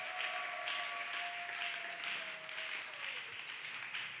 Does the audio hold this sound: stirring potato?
no